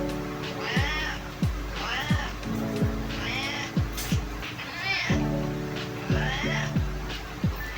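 A cat meows repeatedly, roughly once a second, in loud, close, drawn-out cries over a steady hum and some faint background noise.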